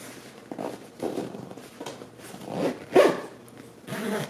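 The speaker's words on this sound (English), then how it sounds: "So let's see if I can still zip this up now." A mini diaper bag backpack, stuffed full with a snack stack, being zipped closed with several short, effortful rasping pulls of the zipper, close by and with no talking.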